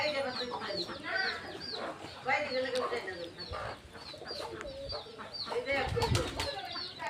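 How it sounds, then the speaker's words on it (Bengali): Chicks and chickens on a family pigeon farm, among the pigeons as they feed: steady clucking and chirping bird calls with occasional wing flaps, close by and continuous. "এই যে দেখেন আমাদের খামারের নতুন বাচ্চা পড়ছে, মুরগির বাচ্চা"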